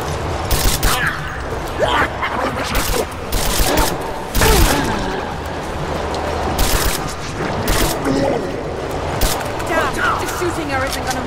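Weapon gunfire booms in rapid loud bursts during a Tomb Raider action fight, with mechanical clatter and a character's shouted voice mixed in.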